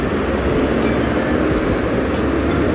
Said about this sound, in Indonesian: Ini dia bus Harapan Jaya